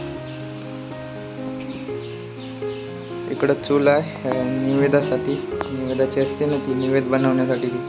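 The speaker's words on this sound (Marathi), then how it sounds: "पक्ष्यांचं किलबिलाट येतं ऐकायला।" Birds chirp and call around a village goddess temple in the Konkan countryside on a morning. Their calls sound light and intermittent beneath someone talking near a temple cooking hearth.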